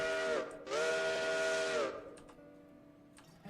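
A live steam heavy Mikado model locomotive on a garden railroad sounds its whistle as it departs, two fairly loud chime-like blasts, one short and one long, followed by quiet hissing and faint ticking.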